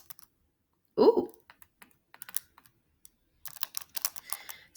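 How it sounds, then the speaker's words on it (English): Quick plastic button presses on a calculator come as scattered clicks, a short burst and then a denser run of taps, close and fairly quiet, with a brief voice sound early on. "So I'm just typing this into my calculadoria here"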